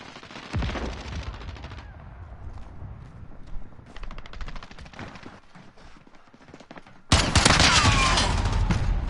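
Rapid gunfire bursts from a one-shot headshot gun in the Call of Duty beta, loud and close, stopping and starting over steady game background noise, then a final dense burst near the end.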